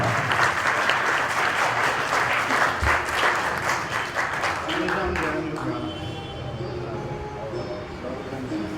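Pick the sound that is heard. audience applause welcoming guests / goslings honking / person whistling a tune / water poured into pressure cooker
audience applause welcoming guests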